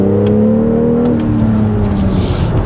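A BMW X3 M40i's engine revs in sport mode, a loud steady drone with tones that rise and then settle, heard up close with no talking.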